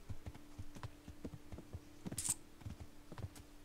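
Horse hooves in the video game Kingdom Come: Deliverance clip-clop in a steady rhythmic gait, quiet and close, with a brief faint chime partway through and no talk.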